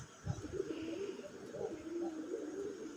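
Pigeons of a loud-calling Golla breed give soft, low, repeated coos close by over a faint steady background hum.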